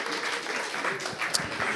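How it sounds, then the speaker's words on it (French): An audience at a French church quiz event applauds in a short, even burst of clapping, with a few voices mixed in. "Bravo, on applaudit, Lise."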